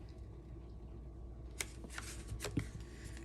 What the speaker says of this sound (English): Just gonna line up those edges and burnish our score line.